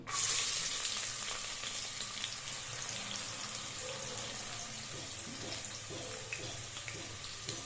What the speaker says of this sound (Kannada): ಫ್ರೈ ಆದ ನಂತರ ನಾವು ಕಟ್ ಮಾಡಿ ಇಟ್ಕೊಂಡಿರೋ ಎರಡು ಮೀಡಿಯಂ ಸೈಜ್ ಈರುಳ್ಳಿನ ಹಾಕೋತಾ ಇದ್ದೀನಿ